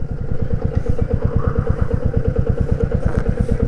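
A motorcycle engine runs close by outside Vaitheeswaran temple in Mayiladuthurai district, with a steady, loud low chugging pulse throughout and occasional clatter as the bike pulls up to park.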